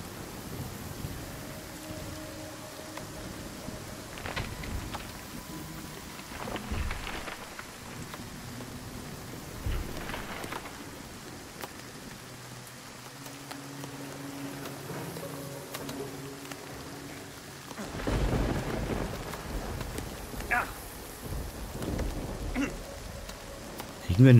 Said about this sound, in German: Es hagelt. Wir kriegen Hagelschaden.